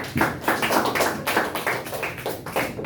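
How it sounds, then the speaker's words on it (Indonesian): Schoolchildren in a classroom clap their hands together in a quick, steady rhythm, the claps close and fairly loud, repeating in short bursts for a few seconds with no talking. "Tepuk tangannya mana?"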